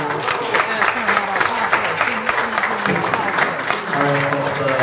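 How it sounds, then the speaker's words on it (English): Audience applause for a candidate at an election forum in Flint, Michigan, steady dense clapping throughout with a voice or two faintly audible underneath. "another applause for Mr. Black"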